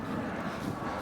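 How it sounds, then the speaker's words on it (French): A fixed-wing airplane passes overhead near an old historic monument in France, heard as a steady, low broadband engine roar that stays fairly faint and even throughout, with no talking. "On a un avion qui passe au-dessus."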